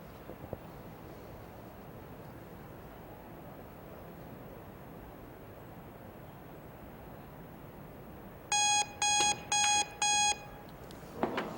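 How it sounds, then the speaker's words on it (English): After a stretch of quiet background hiss at a pool match, a loud electronic buzzer sounds four times in quick, evenly spaced bursts, then stops. "I don't know whether or not Shane could hear that buzzer"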